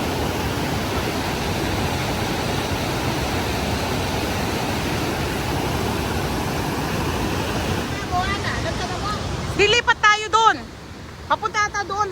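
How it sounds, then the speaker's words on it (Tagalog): Bow Falls on the Bow River in Banff National Park, Alberta, roars as a steady broadband wash of falling water, loud and continuous, with a few brief spoken words breaking in near the end. "Ang tawag nila sa falls na to ay Bow Falls."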